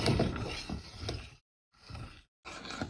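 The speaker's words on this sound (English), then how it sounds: "I'm going to stir this until the sugar has dissolved on a low heat on the stove." A spoon stirs sugar, water and lemon juice in a pot on a stove over low heat, making close, scraping strokes in two bursts separated by short silent pauses.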